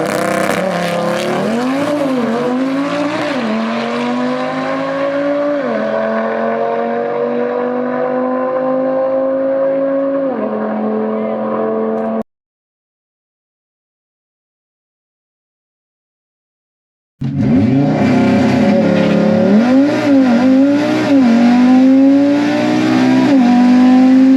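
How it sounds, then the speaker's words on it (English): Audi RS3 launching hard down a drag strip, its engine roaring loud and near as it climbs through gears with rising pitch, then a few seconds of silence before another loud full-throttle run. "I cannot believe how quick this car is off the line into that first 8th mile."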